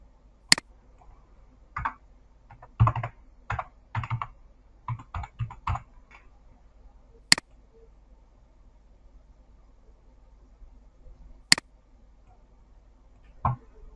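Scattered keystrokes on a computer keyboard as an email and password are typed: a few quick clusters of close clicks early on, then isolated taps separated by long quiet gaps.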